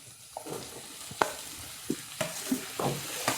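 Brinjal pieces with crushed garlic frying in a pan, with scattered soft sizzles and a few sharp stirring clicks and scrapes of a spoon against the pan at close range.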